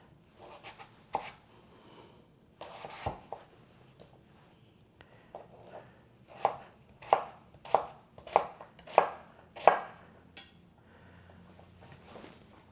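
A knife cuts food into bite-sized cubes on a board, the chops landing as sharp knocks, first scattered, then in a steady run of evenly spaced strokes, close and clear with no talking.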